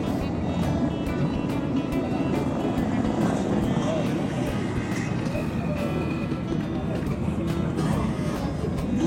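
Two-stroke racing motorcycles drone continuously on a track at a motorcycle show, their engine noise filling the background while people talk over it.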